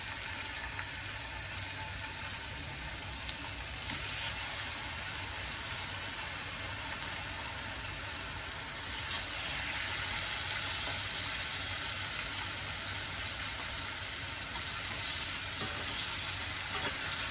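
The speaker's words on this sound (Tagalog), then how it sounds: "Ang next naman po natin ipiprito ay ang isda. Doon na rin po sa pinagpituhan ng patatas." Fish frying in a pan of oil previously used for potatoes, a continuous bright sizzle and crackle at moderate level with a few brief surges, no talking.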